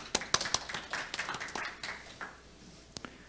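An audience at an international Arctic shipping route seminar applauds as the third session opens, a burst of brisk claps in a hall that thins out and fades within about three seconds.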